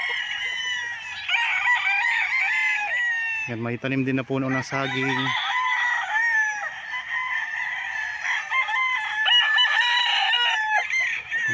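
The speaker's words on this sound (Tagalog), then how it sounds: "Sa ingay ng mga manok. Dami kasing manok" Roosters crow repeatedly in a noisy farmyard in Liliw, Laguna, Philippines, with loud harmonic calls and clucking layered together, while someone speaks briefly over the birds.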